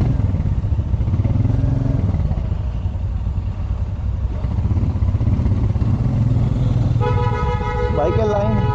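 A motorcycle rides along a road in Ranchi, Jharkhand, its engine droning steadily up close amid traffic noise, with a vehicle horn honking near the end and a voice talking over it.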